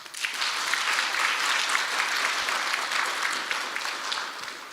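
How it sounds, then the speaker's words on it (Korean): Sustained, dense clapping from a talk concert audience, even and fairly loud across nearly five seconds, with no voices standing out. "우리 체리님께 박수 한번 쳐주세요."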